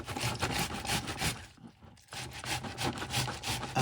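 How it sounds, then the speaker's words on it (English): A fresh tomato rubbed against a grater for traditional shrimp paella, giving steady, loud rasping strokes in a quick rhythm, with a brief pause midway before the scraping resumes. "I want my tomato to be natural. So what you do is I grate this baby."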